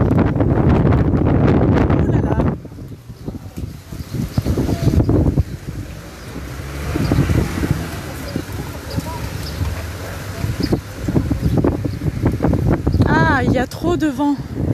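Strong wind beside a river in a small town batters the microphone in heavy rumbling gusts, loudest at the start and returning in waves, while a person talks at times over it.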